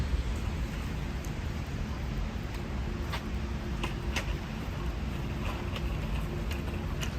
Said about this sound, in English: We have a little bit of snow on the cars, but it's kind of raining.